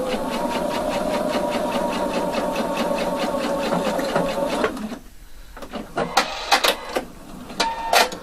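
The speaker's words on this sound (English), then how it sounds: "So first, stitch the center back of the collar, and that's 1 centimeter of seam allowance." A sewing machine stitches the center back seam of a lapel collar with a 1 cm seam allowance, giving a steady, rapid mechanical whir for about five seconds before stopping, then scattered light clicks and handling noises.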